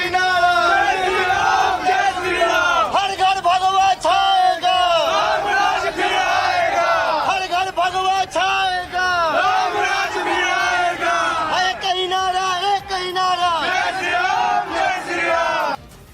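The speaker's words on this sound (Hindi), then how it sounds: "इंतजार में हजारों की तादाद में श्रद्धालु मौजूद थे।" Thousands of devotees crowd outside the Hotel Palash in Patna awaiting Bageshwar Baba, a loud, continuous roar of massed chanting and cheering voices that swells and overlaps without pause.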